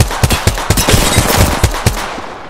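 Rapid bursts of gunfire crack out close and loud in an Apex Legends-style shooter match, with G7 and Hemlock rifles, a string of sharp sharp shots spaced in quick irregular bursts over a steady battle din.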